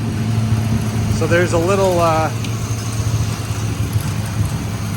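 A revived Pontiac Fireturd's engine idles in a steady, smooth low hum with penetrating oil burning off the block, with someone briefly talking over it near the start.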